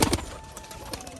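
Pigeons settled at a new loft give soft, low cooing calls in a few short pulses. The calls are moderately close and faint over a quiet background.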